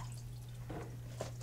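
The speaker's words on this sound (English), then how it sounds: "you're going to take it out of the water" Washed salad greens are lifted out of a bowl of water, giving soft drips and a wet squish against a constant low hum, quiet and close.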